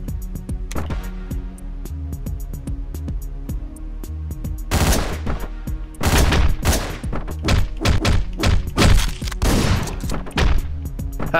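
Shotgun blasts in the video game Hotline Miami, a burst of loud, heavy shots in quick irregular succession that thickens in the second half, with dense impacts and game noise underneath.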